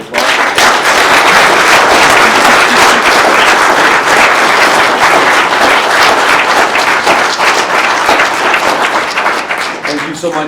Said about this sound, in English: I would like to, as responders in the room, give Moors a round of applause.